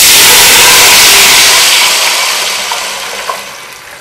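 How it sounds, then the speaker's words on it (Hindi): About two glasses of water are poured into a cooking pot of rice for Karachi-style daal chawal, a loud close gush that gradually tapers off, with no talking. "तकरीबन 1 मिनट के बाद हम इसमें पानी डाल देते हैं।"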